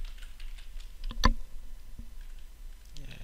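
A few scattered computer keyboard keystrokes, close and sharp, with one louder clack near the middle, typed in a quiet room.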